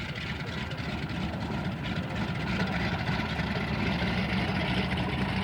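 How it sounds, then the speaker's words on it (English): A Stearman biplane taxis out at an aircraft show, its radial engine holding a steady, rough, throaty idle with a continuous propeller drone at moderate distance and no voices. "Now we got a Stearman taxiing out."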